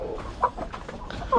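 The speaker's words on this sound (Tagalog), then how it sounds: "Tiyak, gutom na tong mga to, mga sisiw." Rhode Island Red chicks about four months old, hungry, cluck and chirp in a close, busy chorus, with a few louder calls standing out from the steady flock noise.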